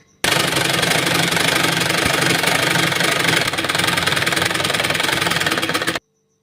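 A sewing machine stitches a shirt sleeve with a loud, rapid, steady mechanical chatter that runs for several seconds and then stops abruptly.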